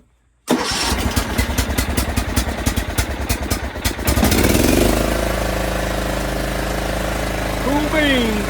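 A repaired lawn tractor engine cranks with a rapid chugging for several seconds, catches and settles into a loud, steady running roar close by, and a voice speaks briefly near the end.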